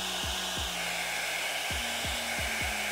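An InfiniTiPro by Conair Knot Dr. all-in-one dryer brush runs steadily with a broad airy hiss and a constant motor whine, plus a few low knocking thumps from handling. There is no talking.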